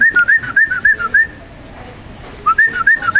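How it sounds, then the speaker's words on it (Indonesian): Wild birds whistling in nature at Girimanik, Wonogiri: a loud, close series of rising and falling whistled calls in quick bursts, a pause, then the phrase repeating. "kalau mau lihat mau dengerin suara burung nih masih ada nih"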